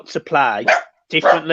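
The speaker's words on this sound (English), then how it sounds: "That's the dog." A dog barks a few times close by, its short voiced barks mixed in with a voice as people talk about Everton's football results.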